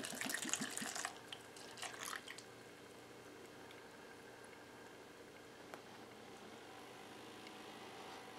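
Mountain Dew citrus soda poured from a 12-ounce can into a drink for a vodka cocktail, a brief fizzy splashing burst at the start, then faint dripping and settling bubbles, with no talking.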